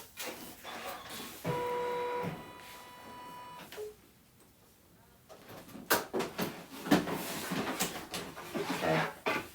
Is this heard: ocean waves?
no